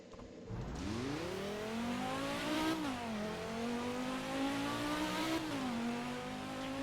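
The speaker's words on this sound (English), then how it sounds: "powering this puppy is going to be the 2 liter naturally aspirated 5 cylinder" Volvo 2-liter naturally aspirated five-cylinder engine, 290 horsepower, in a front-wheel-drive car in the Driving Empire video game, revving loudly and steadily with rising and falling pitch through gear changes, close and with no talk.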